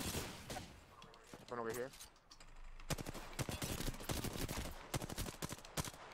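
Rapid gunfire bursts in an Apex Legends match, dense cracking shots continuing through most of the stretch under excited players talking over voice chat.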